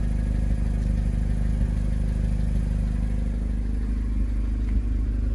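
A tuned motorcycle engine runs loud and close, giving a steady heavy rumble with a rough clattering edge that holds the same level all the way through.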